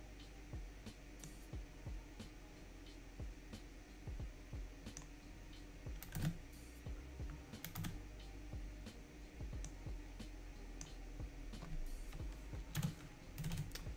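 Computer keyboard keys are typed in quick irregular runs, close but faint, with brief pauses between bursts and a low steady hum underneath.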